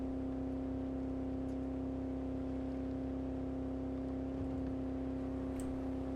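A car engine in Cyberpunk 2077 holding a steady high drone at sustained revs, loud and unbroken throughout, with no talking.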